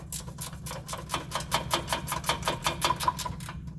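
An air compressor runs in a garage during mount replacement work on a 2002 Honda CR-V. It makes a close, rhythmic chugging, a fast even train of mechanical pulses over a low hum that lasts the whole stretch.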